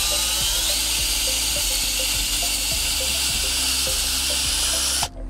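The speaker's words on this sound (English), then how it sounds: "you wanna go ahead and pre-drill the second hole." A power drill pre-drilling a screw hole while setting up a weather station whines steadily up close for about five seconds, with faint rhythmic clicks underneath, then cuts off abruptly.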